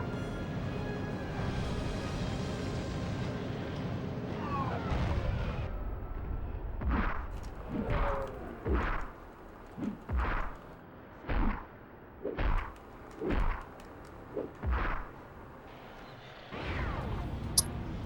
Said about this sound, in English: or else you'll get shot at by cannons